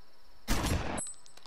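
A short, dense burst of gunfire in the gangster video game Omerta City of Gangsters, loud and close, lasting about half a second and then cutting off into quiet ambience with a faint ringing tail.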